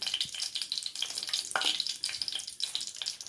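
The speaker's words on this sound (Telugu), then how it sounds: "ఆయిల్ వేడెక్కాక బిర్యానీ ఆకు" Bay leaf frying in hot oil while cooking egg biryani: a continuous bright crackling sizzle with small pops, close up and steady, with no voices.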